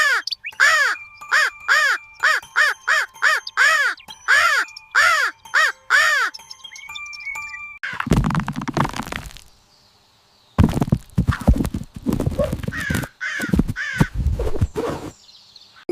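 A crow caws in a fox-and-crow fable, giving a quick run of about ten loud, harsh caws in steady rhythm, then gives way to rustling and noisier bursts.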